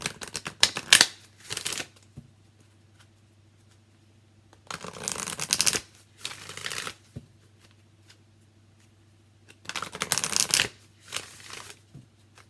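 An Energy Oracle card deck by Sandra Ann Taylor is shuffled in three separate bursts of crisp riffling and flapping cards, close and clear, with quiet pauses between.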